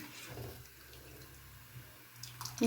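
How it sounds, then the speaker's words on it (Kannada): Water is poured into a pot of drumstick sambar, a soft, faint splashing wash lasting a couple of seconds with no voices. "ಒಂದು ಸ್ವಲ್ಪ ನೀರು ಹಾಕ್ಕೊತಾ ಇದ್ದೀನಿ"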